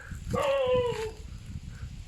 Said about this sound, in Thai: หมาเห่านะผู้ชม